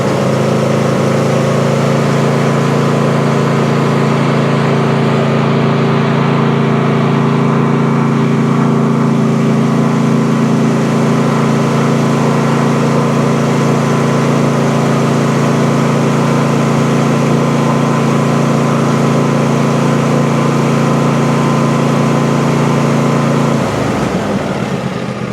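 A Briggs & Stratton small engine with a charging fault runs at a steady, loud idle for most of the clip, a constant low drone with no speech, then cuts off abruptly near the end.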